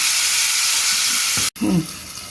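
Rohu fish pieces crackle in frying oil with a close, steady hiss that cuts out abruptly for a moment, then resumes alongside a brief watery splash before settling quieter.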